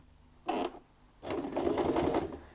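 A domestic sewing machine stitches a seam on a curtain ring hand bag: a short burst of stitching, a pause, then a longer steady run of rapid needle clatter at moderate, close volume.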